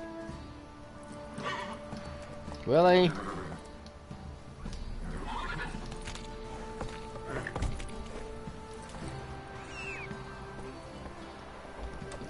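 A horse in The Witcher 3: Wild Hunt gives one loud whinny early on, then its hooves clip-clop at a walk over a quiet game soundscape, with someone briefly speaking.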